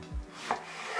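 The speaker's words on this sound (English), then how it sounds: "it just makes it easier to make thinner slices of the courgette" A kitchen knife cuts thin courgette slices on a board for a veggie lasagna: two soft close chops about a third of a second apart, then quiet scraping.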